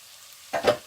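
Potato pieces and washed dried anchovies dropped into a hot pan, a short burst of sizzling that swells and fades after a quiet moment.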